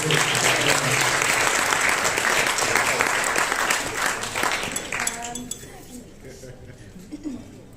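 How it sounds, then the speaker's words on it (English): Wedding guests applaud loudly and steadily for several seconds, a dense wash of clapping with a few clinks of dishes and cutlery, before it thins and fades out toward the end. "Big round of applause."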